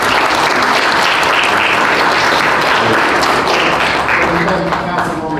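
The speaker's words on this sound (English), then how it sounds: "Let me applaud y'all." Loud, sustained applause fills a city council meeting in Selma, dense clapping from the room running steadily throughout, with voices mixed underneath.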